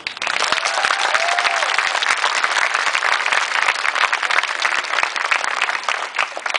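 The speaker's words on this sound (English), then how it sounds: "How about a nice round of applause for Mrs. D?" An audience at a fifth-grade promotion ceremony gives the teacher a warm round of applause, a dense, sustained patter of many hands with a few louder nearby claps and a faint voice early on.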